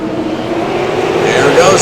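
Super late model race cars at New Hampshire Motor Speedway roar loudly as they accelerate on a restart, a sustained engine drone under an announcer's steady commentary.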